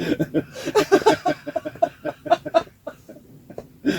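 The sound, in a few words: ducks quacking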